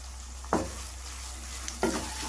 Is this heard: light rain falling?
no